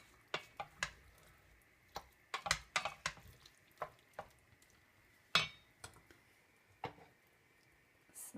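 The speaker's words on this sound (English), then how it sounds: "Let's mix a little bit." A spoon stirring pumpkin risotto in a pot: irregular close scrapes and metallic clinks spaced across several seconds, over a quiet background with no talking.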